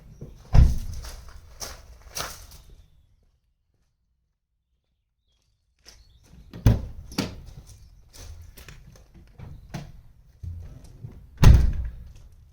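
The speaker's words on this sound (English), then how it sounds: "now I'm going to close this door" Ford Escort Cosworth door handling with a few dull thuds and clunks, then a pause of near silence, followed by a firm slam and another heavy shut.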